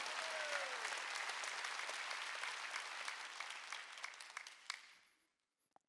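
A church congregation claps hands together in steady, dense applause during a Wednesday worship service, loud and continuous before fading out near the end into near silence.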